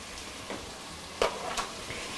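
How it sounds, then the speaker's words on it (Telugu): Chopped onions with turmeric sizzle steadily in a pan, a soft continuous hiss broken by a couple of brief stirring scrapes. "పసుపు అంతా కలిసేటట్టుగా ఆనియన్స్ కొంచెం వేగాలి"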